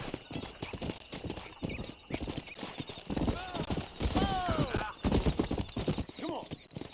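A horse gallops in Red Dead Redemption, with quick hoofbeats and a whinny under several voices talking and shouting.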